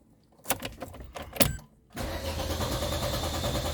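An Opel Meriva 1.6 Z16XE engine with a fault that stops it restarting when hot: a few short cranking bursts, then a steady mechanical whir and drone, close and fairly loud.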